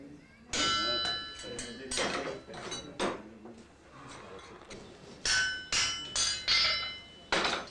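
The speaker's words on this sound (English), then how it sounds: "small, blunt-edged hammer the smith is holding makes a groove in the soft, hot metal of the shoe" A blacksmith at a forge strikes a soft, hot iron horseshoe with a small blunt-edged fullering hammer, ringing metallic clangs in uneven bursts, some rapid double blows, close and loud, with faint voices behind.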